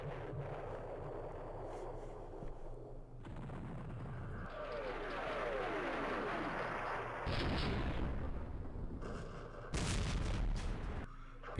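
105mm artillery fire in the Campaign Series Vietnam war game, a series of heavy booming blasts and rumbling explosions with crackling debris, loud and close, rising in several distinct bursts, no talking.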